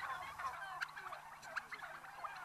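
A flock of free-range organic and heritage turkeys gobbling and chattering together, a steady busy cluster of calls with a few louder gobbles standing out.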